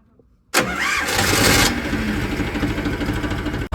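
An Eicher tractor engine cranks and catches after a short silence, then runs at a loud, steady idle close by until an abrupt cutoff near the end.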